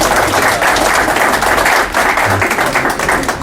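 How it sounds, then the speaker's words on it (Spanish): Loud, dense applause from a crowd at a political gathering in Mexico, a continuous roar of clapping with a low rumble beneath, steady through the whole stretch. "para quien también tiene un fuerte aplauso"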